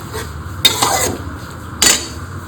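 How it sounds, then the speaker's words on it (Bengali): Spice paste and water get stirred together in a pan for a koi fish dish, with two loud scraping, clattering strokes of a utensil over a low, gentle sizzle. "জল দিয়ে ভালো করে একটু মিশিয়ে নেব"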